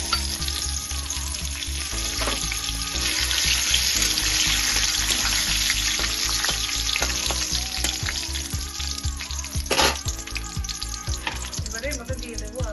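Ghee with bay leaves and cardamom sizzling in a hot kadai on the gas, a loud continuous close-up crackle and spatter that persists throughout with no talking.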